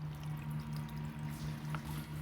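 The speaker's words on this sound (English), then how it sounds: "the water is pouring through there" Rainwater pours steadily through the roof drain of a Yamaha golf cart, a faint continuous trickle and splash with a low steady hum underneath, no talking.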